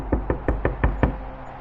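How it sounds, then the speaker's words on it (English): Six evenly spaced, firm knocks on a wooden cabin door, close and forceful, followed by a quiet hum. "we heard a sudden knocking sound on the cabin door."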